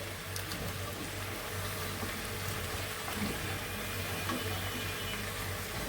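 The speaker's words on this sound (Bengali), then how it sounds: "একটু মাছ ধুয়ে রাখছি" Fish being rinsed under running water in a home kitchen, a steady broadband wash of flowing water continuing the whole time with a faint low hum beneath and no talking.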